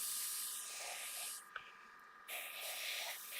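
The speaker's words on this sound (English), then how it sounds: "I can just make out where I'll spray." An airbrush or spray can coats a 1/24 scale Aoshima Knight Rider model car, giving a close, steady hiss that cuts out for a brief pause and then resumes.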